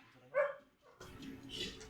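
During a tabletop role-playing game, a person imitates a barking dogfish with one short, yappy bark, followed by a soft muffled rustle.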